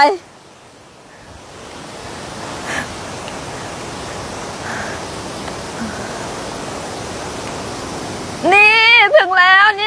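A steady, full rush of a waterfall's falling water roars continuously at the third tier of a nine-tier waterfall in Suan Phueng, Ratchaburi, Thailand, and a voice briefly speaks near the end.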